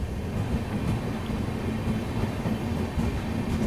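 A passenger train rumbles along the rails near Lucknow, a steady, dense low roar with faint clatter that carries on unbroken throughout.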